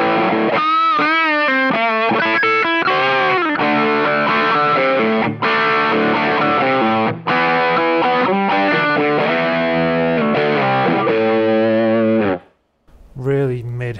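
Heavily distorted electric guitar through a Spark booster pedal plays a punchy riff of chords and single notes, loud and saturated, then cuts to a brief pause and resumes.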